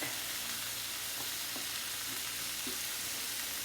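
Garlic sautéing in a pan gives a steady, soft sizzle with a few faint scrapes of stirring, continuous and fairly quiet, with no one talking.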